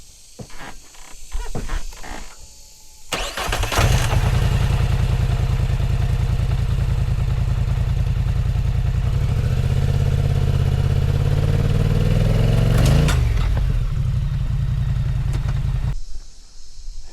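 A Polaris 4WD ATV engine starts after a few clattering knocks, then drones loud and steady for about twelve seconds as it strains against baling twine, pitch sagging and surging before cutting off abruptly.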